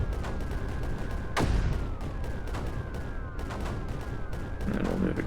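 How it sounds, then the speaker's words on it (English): Mortars firing in the strategy game Creeper World 4, repeated booming shots in quick succession with one heavy blast standing out, over a dense rumbling battle backdrop. "here we want to move mortars forward to make sure we're bombing the inside of the"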